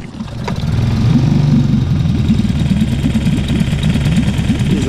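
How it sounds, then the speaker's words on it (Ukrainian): A small boat outboard motor sputters into life in the rain and settles into a steady, close puttering idle. "заводимо наш моторчик в таку кашу"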